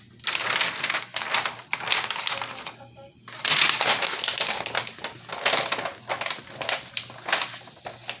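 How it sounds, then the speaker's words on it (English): Paper sunflowers being cut out with an X-Acto knife, close and fairly loud: a busy run of scratchy, crackling strokes and rustling paper with short pauses between bursts. "I'm gonna be using the X-Acto knife to cut these out."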